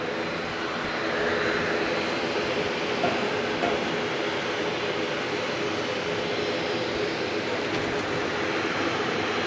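A Jetstar jet arriving from Brisbane touches down at Auckland Airport at night, giving a loud, sustained broadband roar of engines and rushing air that holds steady throughout without clear breaks.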